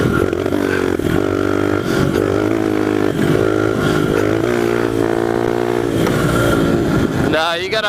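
A pit bike engine revs hard and holds a high buzzing pitch during a fourth-gear wheelie, loud and close, with a few shifts in pitch and a final rising rev at the end.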